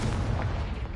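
Confringo spell explosion in Hogwarts Legacy: a dense, rumbling low boom lasting about a second, loud and sustained with a rolling, crackling tail.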